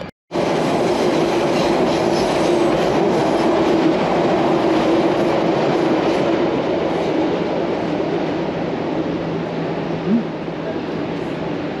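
Elevated train in Miami running on rails above the streets, a loud, sustained rumbling roar with faint rail squeal, close by and steady, with voices faintly underneath.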